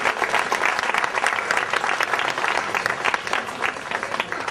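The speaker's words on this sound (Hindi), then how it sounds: "थोड़ा ताली बजाओ" Wedding guests clap at a church ceremony, a dense, continuous round of applause from many hands that stays steady and fairly loud throughout, with faint voices mixed underneath.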